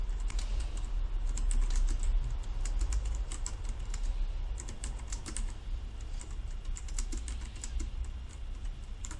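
Rapid typing on a computer keyboard, with dense, steady clicking and clattering of keys running continuously and close up, with no voices.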